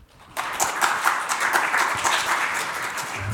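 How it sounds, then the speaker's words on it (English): Conference audience applause at AUSCERT 2018 as two speakers are welcomed to the stage. After a brief quiet start, a burst of clapping from many hands rises and holds steadily to the end. "So just give them a warm round of applause, please."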